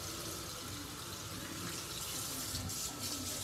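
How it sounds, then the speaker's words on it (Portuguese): Water runs steadily into a toy water gun being filled, a continuous close splashing stream from a tap or sink that holds at an even level throughout, with no talking over it. "Ó, você enche de água aqui, ó."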